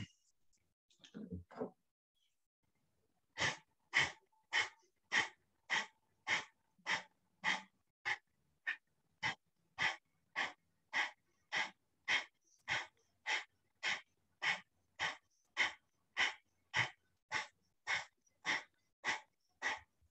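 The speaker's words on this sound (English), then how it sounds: "and begin breath of fire." Breath of fire, rapid yogic breathing during a kriya practice: after a brief sharp inhale, about thirty evenly spaced forceful nasal exhalations pump in a steady quick rhythm, close and alone.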